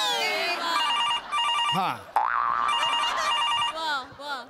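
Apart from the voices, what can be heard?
telephone ringing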